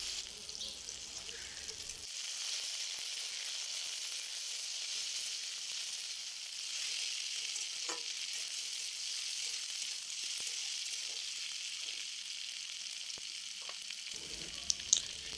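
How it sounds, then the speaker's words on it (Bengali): Spiny gourd (kakrol) fries in oil with a steady, bright sizzling hiss that runs the whole time, close and even, with a few faint clicks and a brief knock near the end. "এরপর কাঁকরোলটা আমি ভেজে নেব।"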